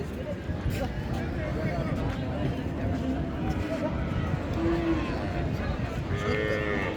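Cattle low amid a noisy crowd at the Raniganj cattle market, with a busy babble of voices and people talking throughout, the moos rising faintly over the hubbub.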